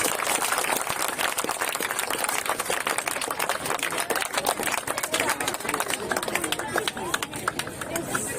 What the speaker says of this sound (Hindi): तालियों की कंजूसी न करें आपको